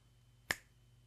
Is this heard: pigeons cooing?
no